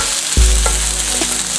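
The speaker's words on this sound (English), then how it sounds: "we're gonna saute these for about 5 minutes so they nice and translucent." Onions and walnut taco filling sauté over medium-high heat, with a loud steady sizzle, a sharp clack of a utensil early on, and light stirring scrapes after it.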